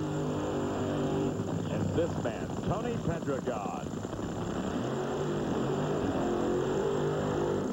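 Drag racing cars with lit engines at the 1999 NHRA Autolite Nationals give off a steady, distant roar beneath an announcer's continuous commentary.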